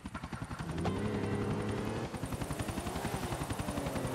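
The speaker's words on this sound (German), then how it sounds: "Verfolgungsjagd mit dem Heli." Helicopter in a chase within the video game GTA 4: a close, loud rotor thumping in a fast steady pulse with a whining engine tone, the beat briefly shifting midway, and no talk.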